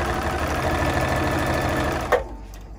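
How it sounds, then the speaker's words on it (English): A sewing machine stitching through fabric and paper strips, a steady close mechanical whir running continuously for about two seconds before stopping with a small clunk, then quiet. "that way you're only stitching through the fabric"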